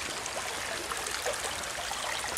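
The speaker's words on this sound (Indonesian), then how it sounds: "kalen atau sungai kecil ini" A small stream flows along the Semedo river area, known for fossil finds, making a steady, even wash of running water that continues unbroken with no voices.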